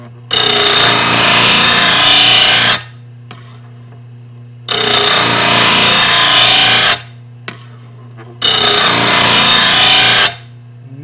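An Oregon 88-025 1/3 hp chainsaw chain grinder sharpens a chain in three loud, harsh grinding passes lasting about two seconds each, separated by quieter stretches where the motor hum continues alone.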